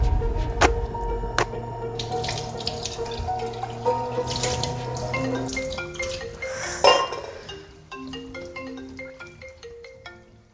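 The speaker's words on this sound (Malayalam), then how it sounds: "ഞാനിവിടെ അടുക്കളയിൽ പാത്രം കഴുകുന്നു" Dishes are washed at a kitchen sink under running tap water, with splashing, dripping and scattered clinks of crockery, close by, while a ringtone-like melody plays alongside.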